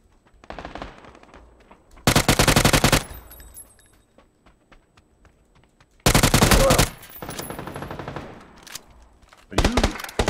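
Automatic gunfire in the PUBG video game on the Sanhok map comes in three loud rapid bursts separated by quieter gaps, with faint in-game sounds between the volleys.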